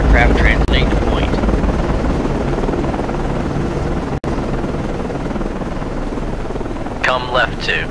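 An SH-60 helicopter flies at night in the naval combat game Cold Waters, a loud continuous rotor and engine drone filling the scene, with brief radio-style voices over it near the start and end.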